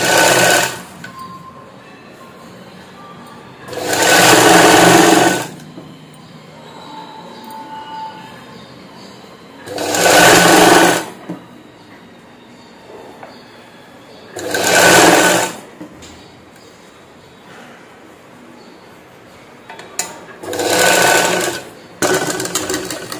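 A sewing machine stitches the shoulder seam of a princess-cut blouse in five loud bursts of fast whirring, each a second or two long, separated by quiet pauses.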